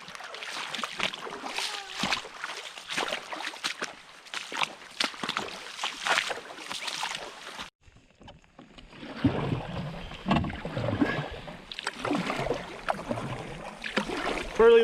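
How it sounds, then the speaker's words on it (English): A canoe is paddled across a lake in the rain, with close rhythmic paddle strokes, splashes and water sloshing against the hull, a short quieter gap midway, then more dipping and dripping. "We've been paddling for at least an hour."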